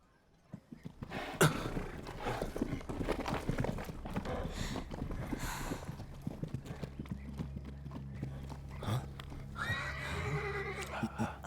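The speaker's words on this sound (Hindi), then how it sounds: "घोड़े तैयार करो।" Horses stamp and clop with clustered hoofbeats while whinnies and neighs break out, in a Hindi-dubbed action film set among a bandit camp readying its mounts. The hoofbeats are near and busy, joined by occasional rough roaring sounds and faint background voices.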